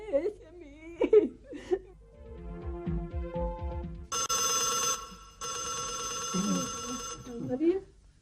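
A telephone rings in a 90s TV drama scene, a bright buzzing ring in two long bursts between people talking, whimpering and giggling.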